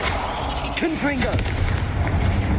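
A Confringo explosive spell goes off in the Hogwarts Legacy video game, a deep rumbling blast followed by booming low-end debris noise. A voice speaks briefly over the start.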